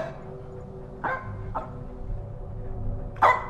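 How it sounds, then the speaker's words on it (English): A dog in the horror video game Keep Your Voice Down at Grandma's House barks from a laundry room, giving three sharp barks spaced over a few seconds, the last one loudest, with no talk. "The dog is barking in the laundry room"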